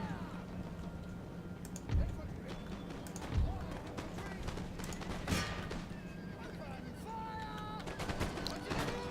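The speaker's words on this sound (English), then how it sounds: "Opening fire." Musket volleys crack out in the game Empire: Total War, a few sharp scattered shots spread across the stretch over faint keyboard clicks, with a voice talking throughout.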